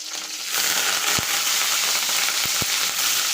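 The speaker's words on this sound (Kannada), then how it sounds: "ಎಣ್ಣೆ ಕಾಯ್ತು. ಒಂದು ಸ್ವಲ್ಪ ಹಸಿಮೆಣಸಿನ್ಕಾಯಿ ಹಾಕ್ತೇನೆ ಫಸ್ಟಿಗೆ." Green chillies hit hot oil in a pan, bursting into a loud, steady close-up sizzle with a few sharp pops and crackles and no talking.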